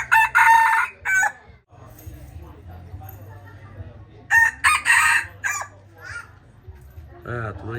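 A rooster crows loudly twice in long strained calls over a steady low rumble, with someone talking between the crows.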